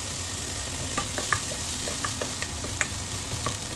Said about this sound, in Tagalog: Isunod na natin ang garlic.